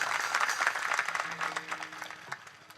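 An audience at a kirtan claps together to welcome a benefactor. The applause is moderately loud and continues for a few seconds, with a voice speaking faintly beneath it.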